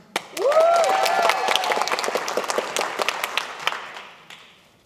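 Audience applause for a performer in a children's choir concert, starting with a short cheer-like whoop, then dense clapping that thins out gradually toward the end.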